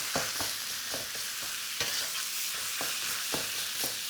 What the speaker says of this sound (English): what we're trying to do here is just seal all the way around the meat